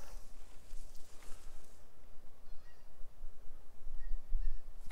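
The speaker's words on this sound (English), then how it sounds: "I hear geese flying over" Geese fly over in The Hunter Classic hunting game with faint, distant honks above a steady outdoor ambience, and soft rustling or footstep-like patter runs throughout.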